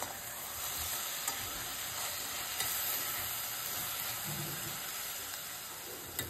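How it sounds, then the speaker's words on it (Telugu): Chopped tomato pieces frying in a pan with chilli and turmeric, cooking down until soft, heard as a continuous close sizzle and steamy hiss with faint scrapes of stirring, no voices. "వేసి టమాటా ముక్క మెత్తగా మగ్గే వరకు వేయించాలి"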